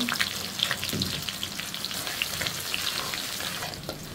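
Chopped onions frying in hot oil, a dense, steady crackling sizzle like light rain with occasional stirring, close and fairly loud throughout, no one speaking.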